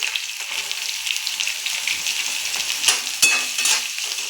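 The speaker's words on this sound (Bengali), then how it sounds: "তেলটা তেতে গেছে এবার আমি ক্যাপসিকামগুলো দিয়ে দিচ্ছি" Capsicum hits hot oil in a pan for pasta, giving a bright, continuous sizzle and crackle with a few sharper pops and stirring scrapes, close and loud with no voices.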